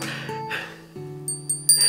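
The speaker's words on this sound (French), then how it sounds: "J'adore les carillons." Several bright metallic chimes ring and overlap, some low and sustained, others high and brief, striking at irregular moments.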